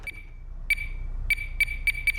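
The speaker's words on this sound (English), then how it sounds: "don't think grenades are supposed to beep like that." A grenade in Henry Stickmin Collection beeps with sharp electronic tones, one long early tone followed by a quickening run of short beeps, loud and alone.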